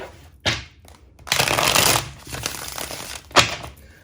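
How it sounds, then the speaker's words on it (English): Tarot cards are shuffled close up: a quick riffle, then a longer ruffling burst, ending with a sharp snap of the deck squaring. "And one more shuffle."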